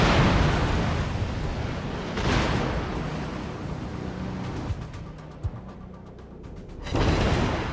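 Battleship turrets firing in the naval combat game World of Warships, heavy broad booms opening the clip and another around two seconds in, with rumbling battle noise and a final loud burst near the end.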